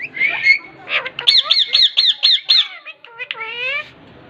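Pet green parrots at home let out loud, close squawks, first a few harsh calls and then a rapid run of repeated shrill cries, ending in a drawn-out screech.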